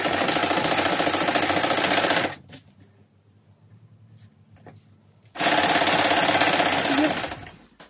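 Sewing machine stitching sweater pieces together into trousers, loud steady whirring bursts at the start and end with a quiet pause between runs.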